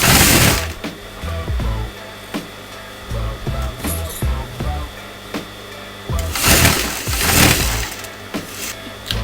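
A sewing machine stitches fabric along the neckline of a designer kameez, its motor running in bursts of rapid rattling, starting and stopping several times, close and fairly loud.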